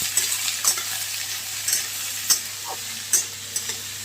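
Green chillies frying in a pan sizzle steadily and loudly, with repeated sharp pops and spatters and occasional stirring scrapes, close by and with no talking.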